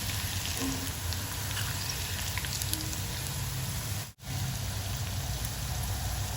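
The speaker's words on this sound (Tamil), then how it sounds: "அதான் வச்சு இப்போ நமக்கு காலிஃப்ளவர் நல்லா ஃப்ரை ஆகி வந்துருச்சு." Cauliflower fries in masala in a pan, a steady, rain-like crackling sizzle that runs continuously, broken only by a brief dip near the end, with no talking.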